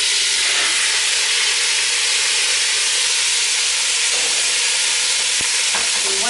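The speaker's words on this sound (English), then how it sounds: "add a tablespoon or so of your extra virgin olive oil to the pan and add your ground venison." Ground venison browning in extra virgin olive oil in a very hot pan gives a steady, close sizzling hiss, with a few faint clinks late on.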